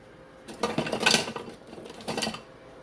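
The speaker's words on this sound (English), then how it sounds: "So then you're going to whisk all of that together" Whisk beating an egg mixture in a large bowl, close rapid clinking and scraping in two brisk bursts with a short pause between, no talk.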